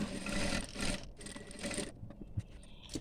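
A sewing machine stitches a hem on a ladies' narrow pant, folded over twice by half an inch, running in uneven close bursts of whirring with short pauses between them and no voices.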